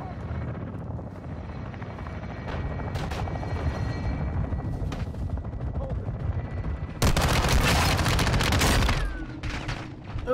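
Call of Duty: Modern Warfare 2 battle sounds: a constant helicopter-like drone carries under scattered shots, then a loud, dense burst of sustained gunfire erupts near the end before tapering off.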